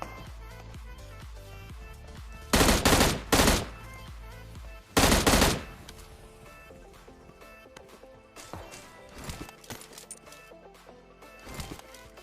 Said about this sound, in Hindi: पीछे एक बंदा भी था जो कि फायरिंग करने की कोशिश करता है